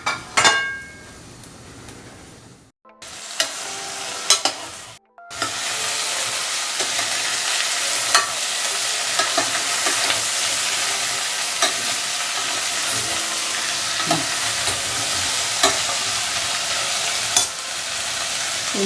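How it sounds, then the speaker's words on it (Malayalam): Vegetables sautéing and being stirred in a hot pan for a bisi bele bath, a steady close sizzle with scraping stirs, broken by two brief pauses early on before the frying continues unbroken. "ഒരു 2 മിനിറ്റ് ഈ വെജിറ്റബിൾസ് ഒന്ന് വഴറ്റാം."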